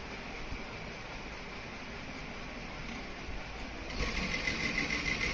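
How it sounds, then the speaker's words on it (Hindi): A sewing machine runs steadily while stitching the pocket of a pair of ladies' pants, with a continuous close whir that grows slightly louder and brighter near the end. No voices are heard. "ये हम यहाँ पे पक्की सिलाई करते हैं।"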